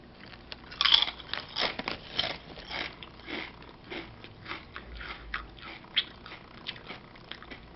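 Crunching on Zappa's New Orleans kettle-style potato chips, with a series of crisp, close bites and chewing crackles spread irregularly through the stretch, no talking.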